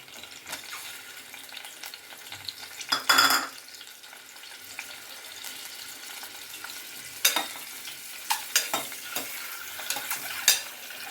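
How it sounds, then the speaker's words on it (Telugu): Five eggs fry in well-heated oil for hotel-style egg kurma, a soft continuous sizzle broken by a loud spatter burst early on and several clinks and scrapes of a utensil against the pan. "వేడెక్కిన తర్వాత మనము తీసుకున్న ఐదు గుడ్లు కూడా కొంచెం బాగా ఫ్రై చేయాలి"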